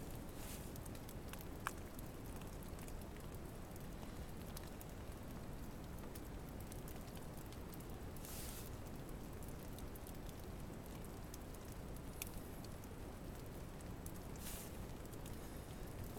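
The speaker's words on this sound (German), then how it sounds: "Ich finde, wir sollten alle jetzt ganz still sein und einfach mal dem Regen zuhören." Steady rain falls outside a bivouac, a soft continuous patter and hiss with occasional louder drops, faint and even throughout with no talking.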